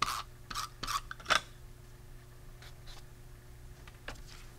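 A few quick crisp snips and rasps from scissors trimming excess craft foil paper, close and fairly quiet, clustered in the first second and a half, then only faint scattered rustles.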